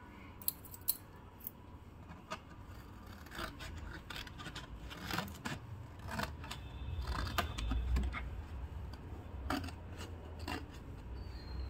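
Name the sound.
cutting green tea box cardboard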